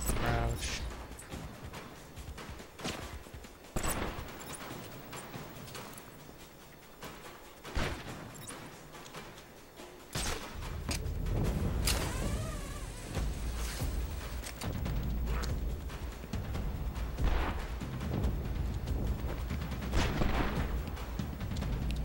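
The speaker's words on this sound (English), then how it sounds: "You can hear gunshots." Scattered video game gunshots from Batman: Arkham Asylum crack repeatedly in the distance and nearby, irregular bursts over a rumbling background with occasional heavier booms.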